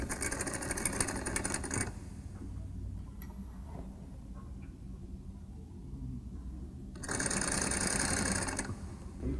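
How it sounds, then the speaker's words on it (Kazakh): A sewing machine stitches the neckline seam of a dress using bias tape, running in two loud steady bursts with a quieter pause of faint handling between them. "Енді мойнын тігіп шығамыз, мойнындағы тігісін тігіп шығамыз."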